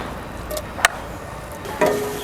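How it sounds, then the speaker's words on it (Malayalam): Crushed ginger, garlic and green chilli sauté in hot coconut oil for chicken kurma, a steady low sizzle heard up close, broken by a few sharp clinks of a spoon against the pan. "ഇനി നമുക്ക് ഈ ചൂടായ എണ്ണയിലോട്ട് നമ്മുടെ ഇഞ്ചി വെളുത്തുള്ളി പച്ചമുളക് ചതച്ചതൊന്ന് ചേർത്ത് കൊടുത്ത് നന്നായിട്ടൊന്ന് വഴറ്റിയെടുക്കാം"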